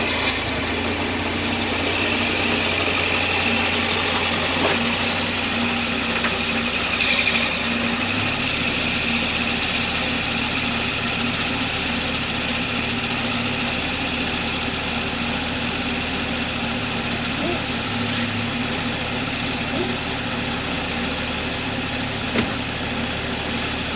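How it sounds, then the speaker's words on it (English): A vehicle's air conditioning compressor runs continuously with a steady mechanical drone and faint whine, loud and close, holding an unchanging hum throughout with no voices. "that sounds like the air conditioning compressor."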